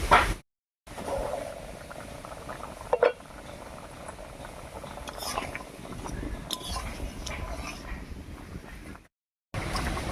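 A lid is lifted off a pot of simmering plum and tomato chutney with a short metallic clink, amid soft bubbling and light kitchen clatter, with brief gaps of silence.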